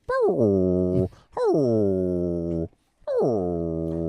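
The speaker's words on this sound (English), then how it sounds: "Now, what kind of dog is Rosie? She's Catahoula leopard" A Catahoula leopard dog gives three long, drawn-out whines, each falling in pitch then holding steady, loud and close with short pauses between them.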